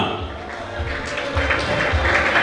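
At a graduation certificate ceremony at Faraja Seminary in Moshi, the crowd claps for a graduate: a moderate, continuous patter of hands over a low, thumping backdrop that swells toward the end.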